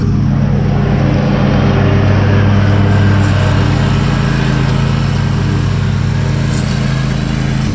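A 42 inch Snapper riding lawn mower runs close by with a steady, loud engine drone and low rumble that holds constant throughout, with no talk over it.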